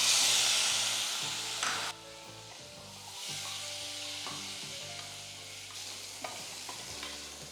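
Cubed medium potatoes drop into a pan of a little cooked tomato and sizzle, with a loud initial hiss that settles into softer frying and stirring scrapes, close up and without voices.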